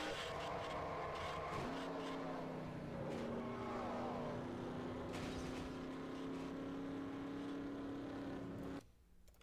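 Race cars in the NASCAR Racing 2003 video game during a league race at the Tropicana 400, engine drone shifting pitch as cars run and rev, with a sustained engine tone that cuts out near the end, under faint commentary.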